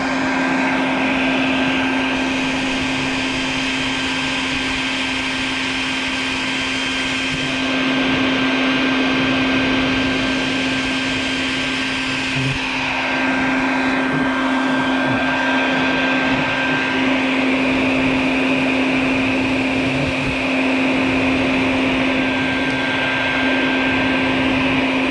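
A vacuum cleaner runs continuously at close range, a steady whining roar with a constant tone, as it sucks hornets from a nest by a front door; no talking is heard.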